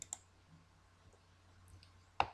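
A few sharp mouse clicks at a computer running equaGRAPH software, faint and spaced apart over a quiet hum, with the last click the loudest and no talking.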